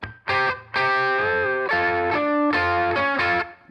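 A distorted electric guitar plays a short riff of sustained, chord-like double stops through a Deco tape saturation unit, with a saturated, compressed tone, tamed highs and steady loudness throughout.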